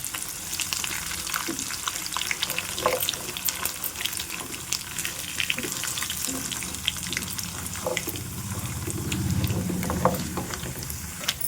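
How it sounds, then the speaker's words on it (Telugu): Dried red chillies and tempering seeds crackle in hot oil for gongura pulihora, a continuous close sizzle with scattered pops and a brief watery rush near the end. "చూడండి, పోపు చిటపట్లాడుతుంది కదా."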